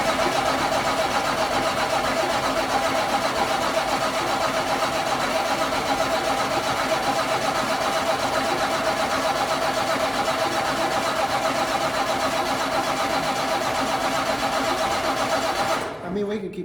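A truck's diesel engine cranks steadily and fails to fire, a continuous loud churning drone that runs nearly unbroken before cutting off at the very end.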